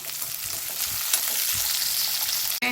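Green chillies and curry leaves fry in hot oil in a pan, giving a steady, close sizzle that continues without pause and ends with a brief clunk.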